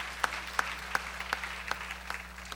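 A church congregation at a Korean sermon claps in unison, a steady rhythmic beat of about three claps per second, moderately close over a constant low hum.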